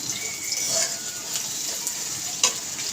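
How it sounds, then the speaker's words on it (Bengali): Chopped onion with a teaspoon of salt stirred and fried in a pan, making a steady soft sizzle with light scraping stirs and a sharper clink near the end, no talking. "পেঁয়াজ কুচিটা নাড়তে থাকবো যতক্ষণ না লাল হয়।"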